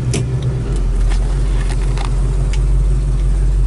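A 1968 Oldsmobile 442 engine runs with a loud, deep low rumble, steady throughout, with a few faint clicks and knocks over the top.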